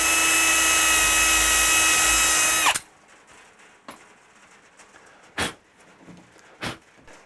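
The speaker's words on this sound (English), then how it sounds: "And I'm going to pre-drill this." Power drill pre-drilling a door for a Kwikset lock set: one loud, steady high-pitched whine for nearly three seconds that stops abruptly, followed by a few faint handling knocks.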